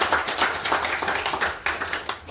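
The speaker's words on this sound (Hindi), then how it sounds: "तो एक जोरदार ताली होनी चाहिए हमारे पास।" An audience at a weekly business meeting in Kalwa claps together in a dense, steady burst of applause that lasts a couple of seconds, with no speech.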